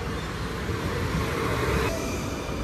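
A direct train to Schiphol runs fast, a steady rushing rail rumble heard from inside the carriage, moderate and continuous.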